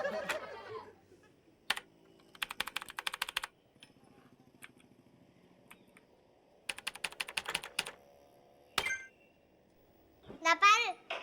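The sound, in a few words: clicking and typing on a computer keyboard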